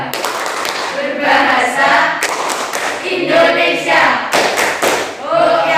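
A classroom group performs the Indonesian 'tepuk bahasa Indonesia' clapping chant: voices chant together in rhythm, punctuated by claps that run throughout.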